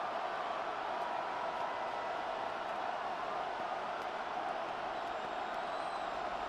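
Steady stadium crowd roar from a Madden NFL 26 football game, a dense continuous wash of cheering fans holding at an even level throughout with no clear peaks.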